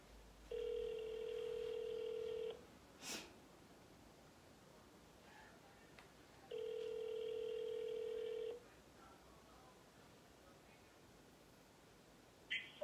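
Telephone ringback tones on a line placed for a prank call: two steady, clear electronic tones about two seconds each, separated by a pause, over a soft background hiss.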